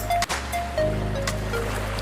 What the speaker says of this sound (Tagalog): Ayan ang kapaligiran ng dagat, maalon